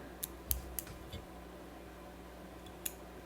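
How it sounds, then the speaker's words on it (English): A few sharp, close snips of scissors trimming stray materials from a Brown Drake cripple fly on the tying vise, spaced irregularly against a quiet background. "And then we'll come back in here and trim some of these strays."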